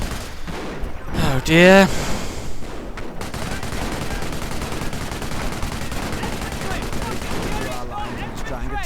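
Bursts of machine gun fire rattle through a World War II strategy video game battle, sustained and fairly loud, while a commentator talks over the action.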